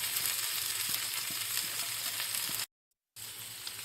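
Chicken with sautéed onion, carrot, green chilli and coriander leaves sizzles in a pan, a steady close frying hiss with faint stirring taps, cut by a brief silent gap near the end.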